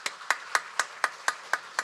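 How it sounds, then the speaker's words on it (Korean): Eight sharp, evenly spaced claps sound about four per second in a church service, crisp and close with silence between, more like one person clapping than a whole congregation. "우리 한번 환영과 축복의 박수 하도록 하겠습니다"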